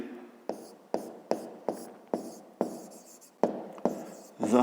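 Pen strokes scratch across paper while writing out a fifth-grade math solution, about ten short separate bursts in an uneven rhythm, close and clear, with a voice briefly at the end.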